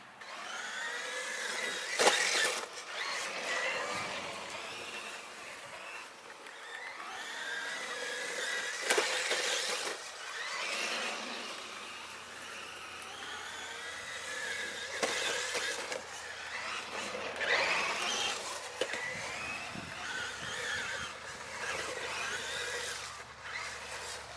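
A Traxxas RC car's electric motor whines through repeated throttle runs while TSM settings are tested, rising and falling in steady bursts at close range, loud and continuous with no talk.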